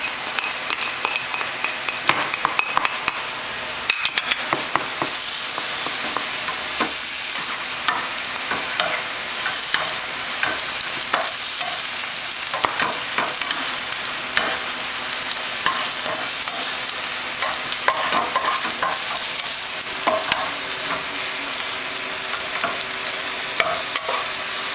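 Garlic and onions fry in a little oil for a tuna burrito, giving a steady close sizzle throughout with frequent scraping stirs and light clinks of a utensil against the pan, and no talking.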